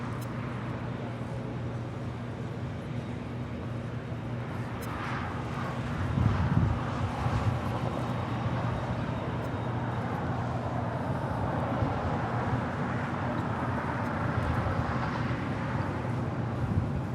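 An airliner accelerating down runway 25 right at Los Angeles International Airport, a steady broad engine roar that swells partway through and holds, heard from a distance with wind across the microphone.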